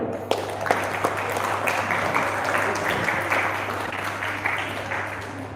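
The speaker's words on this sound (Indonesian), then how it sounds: "Tepuk tangan dulu." An audience at an event applauds, a steady wash of clapping that holds evenly throughout with a voice faintly underneath.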